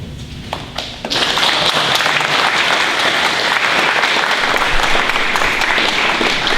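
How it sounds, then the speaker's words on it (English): A few scattered claps swell suddenly into loud, sustained applause from an audience at an event about the GM plant in Oshawa, holding full and steady to the end. "Fred's not even here and he gets applause"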